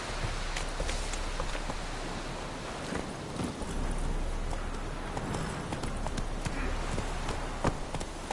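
Roach, a horse in The Witcher 3, gallops with steady clip-clop hoofbeats under broadband game ambience, close and continuous with no gaps.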